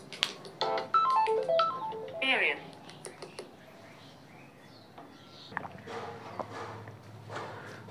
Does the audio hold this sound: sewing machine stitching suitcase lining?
no